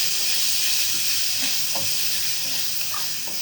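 Tomatoes fry in a hot pan with a steady, bright sizzle and hiss. A few soft stirring clicks sound close by, and no one speaks.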